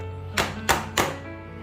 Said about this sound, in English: I'll take and I'll bang it down to get all the air bubbles out